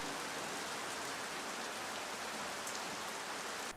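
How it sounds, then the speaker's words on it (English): Steady rain hiss in a Project Cars 2 racing game, broadband and even throughout, a constant wash of falling rain with no engine or voices standing out. "for the first time ever in this championship, we've got rain."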